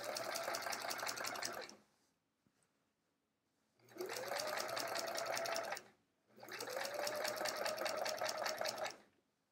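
A sewing machine quilts with metallic thread, running in three steady stitching bursts of about two seconds each, separated by short quiet pauses, close and fairly soft, with no talk.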